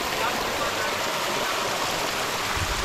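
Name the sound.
mountain stream water flowing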